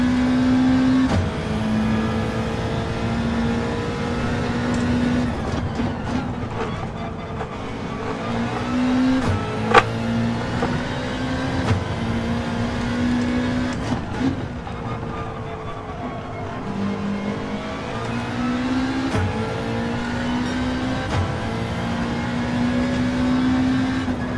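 Subaru WRX engine held at steady high revs through a controlled slide in Gran Turismo 7, a sustained buzzing drone with pitch dips and rises as the throttle shifts, plus faint tyre noise, with no voices.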